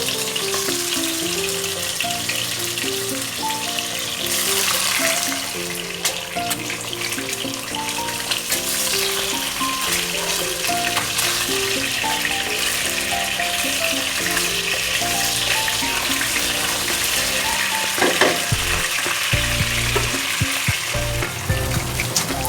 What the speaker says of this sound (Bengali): এ পর্যায়ে আমি মাছগুলোকে ভেজে নেব।